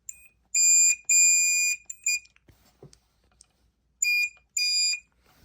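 Piezo home smoke alarm sounding during a test, loud shrill beeps in pairs of long blasts separated by silence, with faint handling clicks in the gaps.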